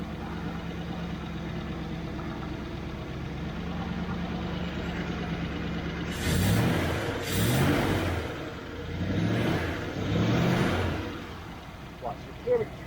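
A Triumph Stag engine fitted with Stromberg CD175 carburettors, running lean, idles steadily then revs up in several swelling bursts close by, settling back toward idle between them.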